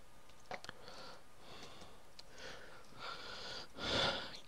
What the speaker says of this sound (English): I could hear your breathing again.